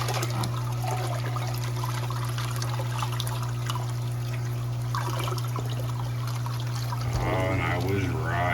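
Water pours and spills over the rim of a roadside tank converted into a turtle tank, a soft trickling wash over a steady low hum, with a voice coming in near the end.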